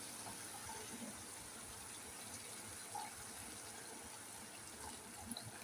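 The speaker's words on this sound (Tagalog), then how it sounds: "lagyan natin ng tubig" Steady stream of water poured into a cooking pan of chicken adobo, a soft continuous gush heard alone at low volume.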